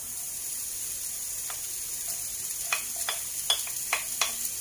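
Sliced ginger fries in a pan for Malaysian-style kau yuk mui choy, a faint steady sizzle broken by several sharp clicks and taps of a utensil stirring against the pan.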